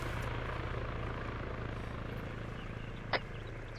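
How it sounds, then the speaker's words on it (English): Helicopter in the Arma military video game, a steady broad rotor and engine drone that holds evenly throughout, with a brief sharp click near the end. "Okay, chopper's moving away."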